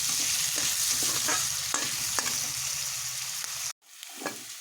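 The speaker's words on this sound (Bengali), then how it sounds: "দেবো এই আলুতে একটু লবণ, একটু হলুদ। আমি এটা একটু ভেজে নেব।" Potatoes seasoned with salt and turmeric sizzle steadily in hot oil, with a few sharp stirring scrapes against the pan; the frying hiss cuts out abruptly near the end, then resumes softly.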